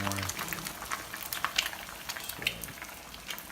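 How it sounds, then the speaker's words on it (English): Eggs boiling in water at a steady boil, a soft continuous crackle and hiss with a few louder pops, close by and fairly quiet. "you gotta love the sound of those eggs boiling in the morning"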